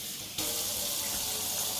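Water pours into a hot pan of fried rice on the stove, a sudden steady hissing gush that starts abruptly and keeps going without a break.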